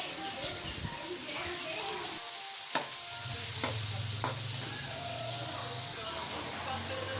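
Chicken and green capsicum sizzle and fry steadily in a pan, with a few sharp scrapes of stirring and a low hum underneath, close and fairly loud throughout.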